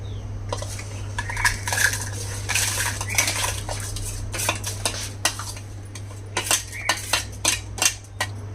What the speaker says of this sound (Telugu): ఎండుమిర్చి ఇవన్నీ ఇప్పుడు ఫస్ట్ బండతో దంచుతానండి